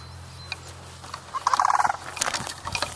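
Sandhill cranes give a burst of loud, rattling bugling calls at close range near a garden, repeated in rapid pulses over a couple of seconds, with some rustling before and after.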